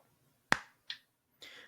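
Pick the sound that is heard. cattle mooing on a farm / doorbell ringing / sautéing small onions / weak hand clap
weak hand clap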